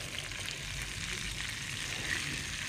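Spiced fish fries in a pan with a constant, even sizzle and crackle, close and steady with no voices.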